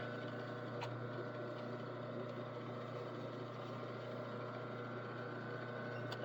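A sewing machine top stitches a kilt waistband, its motor humming in a low, steady, quiet drone with a faint regular mechanical patter, and no voices.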